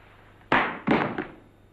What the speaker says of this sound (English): I'm dropping my gun.